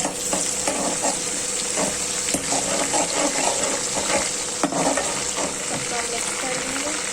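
Cumin seeds, cloves, curry leaves and whole red chillies frying in hot oil for Punjabi kadhi, giving a dense, steady close-up sizzle with crackling pops and occasional stirring scrapes.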